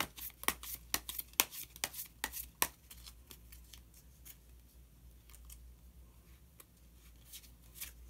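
Tarot cards are shuffled and drawn in a quiet room, with a burst of sharp, rapid card snaps and slaps early on, then sparser soft flicks and slides, close and faint.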